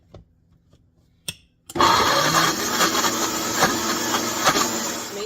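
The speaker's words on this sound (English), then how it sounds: "I'm going to add my onions, and I'm going to add my garlic, and I am going to blend this." A Vitamix blender starts up after a couple of clicks and roars loudly and steadily as it purees onions and garlic, its motor pitch wavering slightly as the contents churn.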